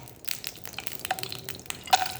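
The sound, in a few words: frying peanuts and raisins in a pan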